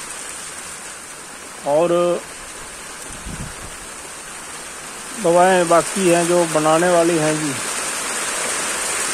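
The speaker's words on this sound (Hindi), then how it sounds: "बारिश आ गया है जी अब ज़ोर से" Heavy rain pours down in a steady, dense hiss across the whole stretch while someone talks over it in short phrases.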